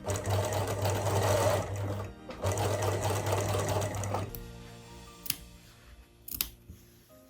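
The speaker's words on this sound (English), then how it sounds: "now I'm gonna sew 1 cm seam allowance, but not the side seam because later I wanna flip it over" Sewing machine stitching a seam on a miniature costume, a close steady mechanical whirr in two runs with a brief pause, then stopping, followed by faint handling clicks of fabric and tools.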